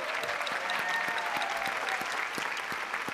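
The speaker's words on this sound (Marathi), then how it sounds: "त्याबद्दल जोरदार टाळ्या स्वागत करा सुद्धा." Audience applause welcoming a guest on a Marathi comedy show stage, a steady, dense round of clapping from a full crowd that holds at even strength throughout, with no voices over it.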